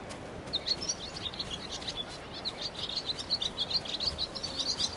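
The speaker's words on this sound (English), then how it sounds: "Golden Bird, where are you headed?" Golden bird in Ghost of Tsushima chirping in quick, faint, high bursts, repeated throughout over a soft, steady outdoor ambience.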